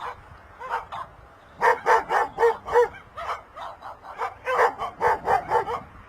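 A dog barks near an airport in a rapid, excited series of yips and barks with a few whimpers, loud and close, in two bursts separated by a brief pause.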